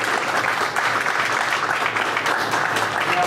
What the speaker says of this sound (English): So why don't we all give Bryson a big round of applause.